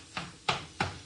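A plastic mix-and-chop tool jabs ground meat in a frying pan, giving four evenly spaced, soft close taps and scrapes without talk.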